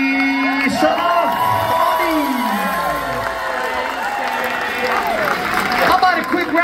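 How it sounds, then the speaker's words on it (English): Audience at a tribute concert cheering, whooping and applauding for the left-handed player, a loud, continuous crowd roar with shouts rising over steady clapping. "a big round of applause to Mr. Oddie!"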